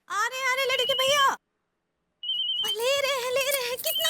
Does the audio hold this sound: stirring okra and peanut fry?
no